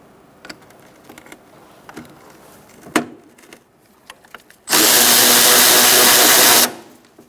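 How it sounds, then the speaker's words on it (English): A ratchet wrench with a 10mm socket and extension working a bolt on a 2004-2009 Mazda 3 during AC condenser replacement, scattered clicks and knocks, then a loud steady whirring run of about two seconds, close by with no speech. "Using a 10mm socket and an extension."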